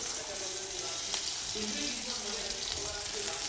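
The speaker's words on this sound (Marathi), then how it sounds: "थोडं तेल ठेवायचं आहे त्यात कांदा टाकायचा आहे शिमला मिरची पण टाकून घ्यायची आहे" Onion and capsicum frying in a little oil in a pan, giving a steady, soft sizzle that carries through the whole stretch at low volume, with a faint clink partway through.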